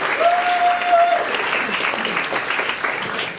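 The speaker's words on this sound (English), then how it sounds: "Can you please have a big round of applause for our actual improv performers, Danny, Liam, Aidan and Ken!" An audience claps loudly for improv comedy performers at a live show, a dense burst of applause that stays strong across the few seconds, with a brief whistle near the start.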